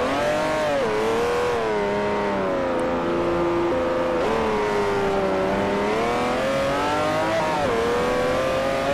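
A Mercedes-AMG GT R race car in Forza Motosport 4 drones loudly and steadily, its engine pitch rising and dipping with gear changes and throttle, with no talk over it.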